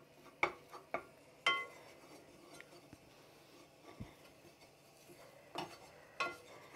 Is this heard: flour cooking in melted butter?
yes